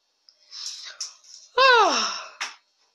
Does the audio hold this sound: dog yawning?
yes